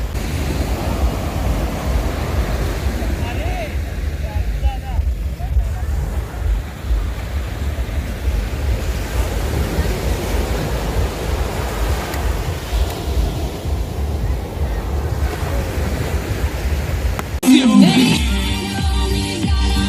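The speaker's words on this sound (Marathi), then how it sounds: "शांत समुद्राची खळबळ आपल्याला ऐकू येते आहे।" Calm sea waves wash onto a dark, unlit Goa beach at night, a steady rushing surf with wind noise, ending in a sharp louder disturbance near the mic.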